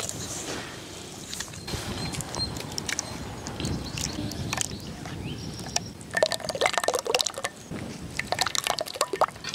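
Small amount of water poured into flour batter seasoned with black pepper powder and salt for candy chicken in an outdoor village kitchen, giving soft liquid drips and wet squishing that grow busier toward the end, with no talk.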